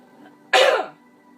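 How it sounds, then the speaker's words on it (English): A single sharp cough, close and fairly loud, breaks a quiet moment and fades within half a second. "always with the coughing."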